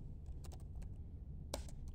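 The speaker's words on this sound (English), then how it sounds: "just type the question underneath it" A handful of soft keystrokes on a computer keyboard, quiet and fairly close, scattered irregularly with one sharper tap near the end, over a low background hum and no speech.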